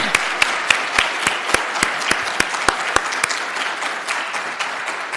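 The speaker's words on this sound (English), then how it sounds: "Let's give our governor another round of applause." Audience at a dairy industry summit applauding the governor, a dense run of sharp claps from a crowd, loud and steady throughout.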